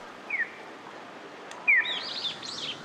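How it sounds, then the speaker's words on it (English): A birdsong-like electronic chirp from a Japanese pedestrian crossing signal sounds in short bright tweets, a single call and then a cluster of rising and falling chirps, clear over faint street background. "you might hear what sounds like birdsong, but there are no birds anywhere near."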